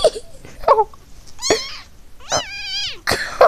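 A distressed cat meowing and yowling in drawn-out cries while being held, close and loud, mixed with a person's short vocal sounds between the calls.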